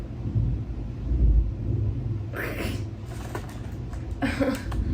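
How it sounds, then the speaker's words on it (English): Low, steady thunder rumbling rolls through the background, a broad distant roar with no sharp crack, while brief hiss-like bursts come and go over it. "Was that thunder?"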